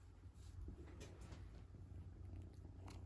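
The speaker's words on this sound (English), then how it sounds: "Can you hear him purring?" A kitten purrs softly close by in a low, continuous rumble, faint and steady over quiet room noise.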